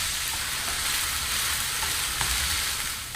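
Onion and beef cook in a pan as filling for Japanese korokke potato croquettes, giving a steady, dense sizzle and crackle close by, with no talking.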